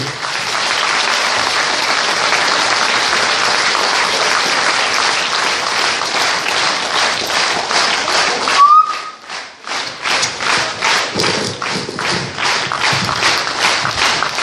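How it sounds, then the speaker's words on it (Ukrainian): An audience at a concert honoring Ukrainian poet Vadym Kryshchenko claps in a loud, sustained ovation, briefly dipping before resuming with rhythmic, emphatic clapping. "Оплески народного артисту Вадиму Крищенка"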